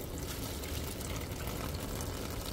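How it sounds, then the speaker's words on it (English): Water spills steadily from the condensate drain of a Mitsubishi City Multi air conditioner, a continuous close splashing pour with no talking. "Well, I see that it's just spilling more and more."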